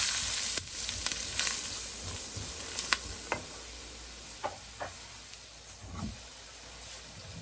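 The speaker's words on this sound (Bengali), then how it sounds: "এই যে 2 টেবিল চামচ পরিমাণ ময়দা দিয়ে আমি একটু ভালোভাবে ভেজে নিব" Two tablespoons of flour toasting in a pan, a steady soft sizzle with faint crackles and a few sharp clicks of a utensil scraping and stirring, close and quiet, no voices.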